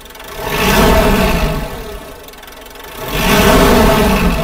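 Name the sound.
Mitsubishi Montero engine revving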